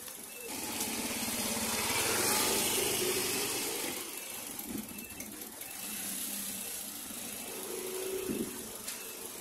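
Car engine idling roughly with one ignition coil disconnected, a steady loud drone with low rumble and uneven surging, the revs dipping and shaking continuously with no talk.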